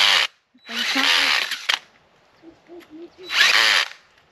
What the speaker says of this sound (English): The auger works for everyone else in the world, but of course it's not going to work here.